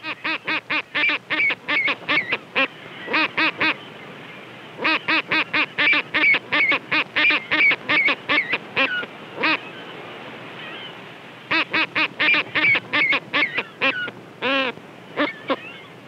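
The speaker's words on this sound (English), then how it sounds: "the angry cries from the parent birds" Parent skuas on the wild shores of Patagonia give harsh, repeated nasal cries in nest defense, loud and close, delivered in rapid bursts separated by brief pauses.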